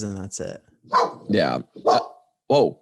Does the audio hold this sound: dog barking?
yes